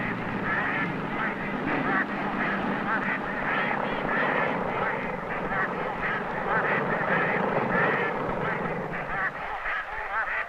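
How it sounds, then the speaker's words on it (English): Flightless ducks being herded on open water in tule reed marsh country give a continuous din of overlapping quacks and honks, a dense flock chorus under a steady rumble that sounds like boat engines. "most of the flightless ducks were finally chased out of the Tule reeds to the open water"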